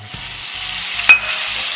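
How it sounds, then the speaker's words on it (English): Butter dropped into a preheated pan, a steady close sizzle with a sharp hiss and spatter partway through as it hits the heat. "I've preheated this pan, so what we're gonna do is drop the butter in here."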